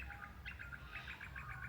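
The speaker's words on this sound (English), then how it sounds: "maybe while we're talking you'll hear the birds in the background." Small birds chirp and tweet in the Australian bush on a calm morning, a quick run of bright, repeated calls set a little way off, faint but clear over low background hum, with no talking.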